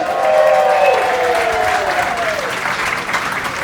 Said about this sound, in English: the parents of the groom, Lynn and Joe Chavez, make some noise for them